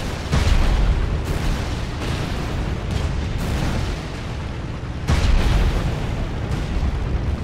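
Artillery fire and explosions in the top-down tank game Tankocracy, a string of loud booming blasts with heavy low rumble, several sharp onsets spaced irregularly over continuous battle noise.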